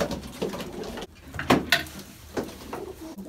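Mardin pigeons cooing nearby, a few soft low throaty coos mixed with knocks and handling noises from a loft or cage, no voices.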